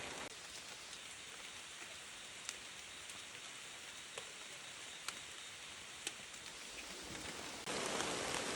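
Light rain patters softly and steadily, a faint hiss with occasional distinct drops tapping nearby, growing slightly heavier toward the end.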